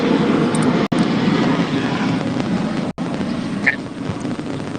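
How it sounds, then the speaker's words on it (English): A propeller airplane drones overhead outdoors, a steady broad engine roar holding throughout with two brief dropouts, loud and continuous with no talk over it. "I'll wait for the plane."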